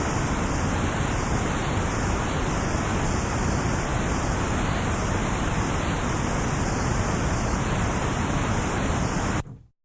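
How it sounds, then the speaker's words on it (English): A steady, loud wash of broadband white noise from a Moog synthesizer, constant and unchanging like rushing static, running for nearly ten seconds before cutting off abruptly. "This is white noise, so called because as white light contains all colors, so white noise contains all pitches."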